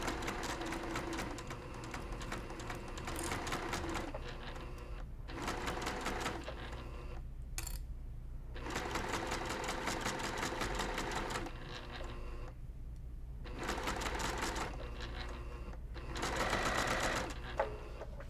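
A sewing machine runs in several bursts, set to a long basting stitch and sewing rickrack along the very edge of brown fabric for a cross-stitch mug rug, with close, steady mechanical whirring and short pauses between runs.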